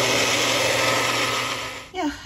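A small blender whirs steadily at close range with a high mechanical whine, then cuts off abruptly near the end.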